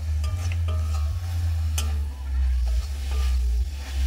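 A spoon scrapes and stirs a thick semolina batter in a pan over a very low flame, making soft repeated scraping ticks over a steady low hum with a faint sizzle beneath.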